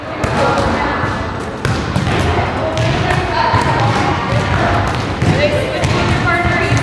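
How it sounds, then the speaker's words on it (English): Many volleyballs thump and bounce in a busy middle school gym as players toss and bump in pairs, with a reverberant, continuous clatter of hits under people talking. "One person's tossing, one person's hitting."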